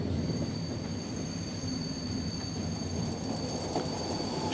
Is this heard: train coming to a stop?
yes